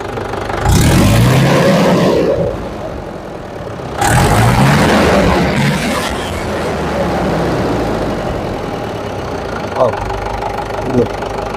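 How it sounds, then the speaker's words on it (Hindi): A Mahindra tractor's diesel engine cranks and roars in two loud surges, starting and revving up, then settles into a steady, rumbling idle nearby. "ये हम ट्रैक्टर स्टार्ट कर रहे हैं, कितना धुआं निकल रहा है। और रेस करते समय"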